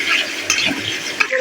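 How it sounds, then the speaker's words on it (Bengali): Chicken pieces frying in a pan and being stirred, a bright close sizzle with spatula scrapes and a couple of sharp knocks against the pan. "হালকা নেড়ে চেড়ে চিকেনটা ভেজে নেব"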